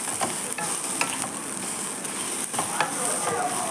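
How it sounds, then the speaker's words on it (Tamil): Mint, coconut and tamarind sauté in a pan for a chutney, giving a steady close sizzle and frying hiss with occasional stirring scrapes throughout, with no talk. "கொஞ்சம் புதினா, தேங்காய் கூட கொஞ்சம் புளியும் சேர்த்துக்கலாம். இதையும் நல்லா வதக்கிக்கலாம்."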